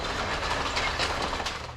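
Old locomotive-hauled passenger train with 1970s Romanian-built carriages passing at a Sri Lankan station, a steady rumbling roll with rail clatter, close and fairly loud throughout the short stretch.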